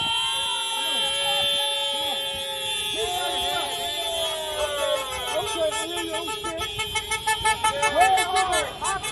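A car horn honks repeatedly, starting with long sustained tones and ending in a run of quick, rhythmic blasts, loud and close.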